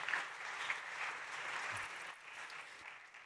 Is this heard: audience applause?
yes